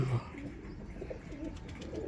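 Low, soft coos from black pigeons repeat close by, rolling gently over a light background murmur.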